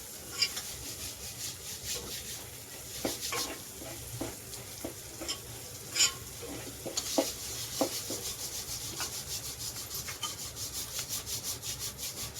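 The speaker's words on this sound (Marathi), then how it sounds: "कांदा चांगला भाजून घेऊया आपण" Onions frying for a spinach bhaji sizzle softly in the pan as a spoon repeatedly scrapes and stirs them, the rubbing strokes coming in a quickening rhythm, close up and without any voices.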